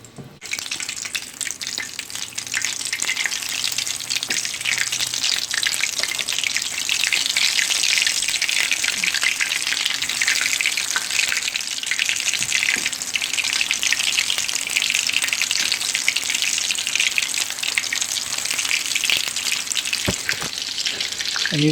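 Loaded potato bites deep frying in hot oil, with a steady, dense hiss and sizzle that continues without a break, close and fairly loud, with occasional small pops.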